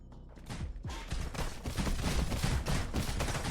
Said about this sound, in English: He's shooting the wrong place.